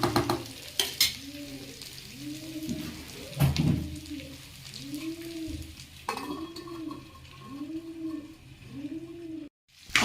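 Potato farali dry sabzi is mixed with spatula clatter and a soft sizzle in a pan, while a pigeon coos rhythmically and repeatedly nearby throughout.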